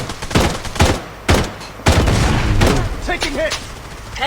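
Gunfire in the shooter game Blood Strike, several loud sharp bursts of shots and booms in quick succession, with a voice talking in the middle of the firing.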